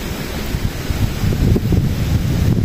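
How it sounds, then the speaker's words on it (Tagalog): Strong wind buffets the microphone outdoors among tall-stemmed plants, a loud continuous low rumble with gusting surges and no voices. "Hangin."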